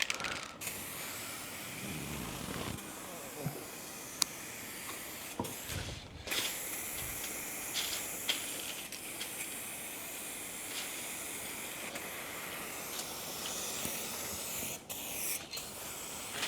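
A spray gun lays a final coat of sparkly paint for a DIY project in a steady soft hiss, broken by a few brief pauses and small mechanical clicks, heard alone without talk.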